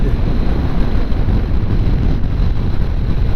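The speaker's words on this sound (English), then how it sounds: "Man, when it's windy, this thing is so loud." Loud, steady wind buffeting a microphone on a Honda NC700X motorcycle, with a low engine drone beneath it, a continuous roar with no breaks, like riding fast in strong wind.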